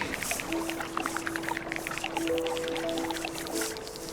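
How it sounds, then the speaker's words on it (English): Water is placed on the map in the video game Terra Nil with a steady bubbling, pouring gurgle. Soft sustained chime-like tones ring over it, heard alone without speech. "Start putting some water on the map."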